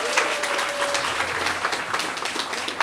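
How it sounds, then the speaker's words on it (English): Audience applause for elected officials at a neighborhood re-opening ribbon-cutting press conference, a steady wash of clapping filling the whole stretch at moderate loudness with no talk over it. "Can we have a round of applause for all the elected officials who spoke?"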